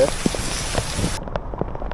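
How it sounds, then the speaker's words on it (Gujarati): Heavy, continuous rain falling in Mendarda, Gujarat: a dense hiss of drops on surfaces with scattered sharper patters. The bright upper hiss drops away partway through, leaving softer drops. "બહુ વરસાદ વધી ગયો છે. સતત વરસાદમાં વધારો થઈ રહ્યો છે"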